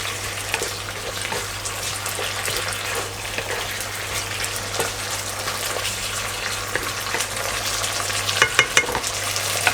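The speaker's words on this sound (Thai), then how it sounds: "อันดับสุดท้ายผมจะใส่ใบมะกรูดฉีกนะครับ แล้วก็ผัดให้สลด" Pork belly and yardlong beans with torn kaffir lime leaves stir-frying in a hot pan, a steady close sizzle with scraping stirs and a few louder clatters near the end.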